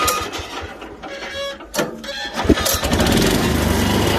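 A ROBIN four-stroke petrol engine on a four-wheel-drive farm truck with rubber tyres runs steadily and close by, its dense mechanical drone briefly uneven before settling into a loud, continuous hum.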